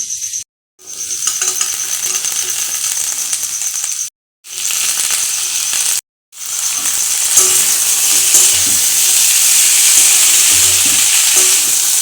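Green peas for ghugni hitting hot oil in a kadai produce loud, bright sizzling and stirring scrapes, broken by three short silent gaps before building steadily.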